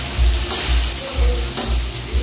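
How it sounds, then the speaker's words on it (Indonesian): Broiler chicken pieces fry in a pan with tomato seasoning, a loud close sizzle that swells in a few rhythmic bursts as the food is stirred, with no talk. "pagi hari ini aku lagi masak ayam goreng. Bumbunya tomato"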